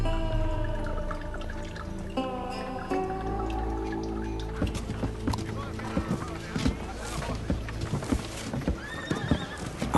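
A horse whinnies loudly near the start, followed by hooves clip-clopping in an uneven rhythm on hard ground in a Western outdoor setting, with people talking over it.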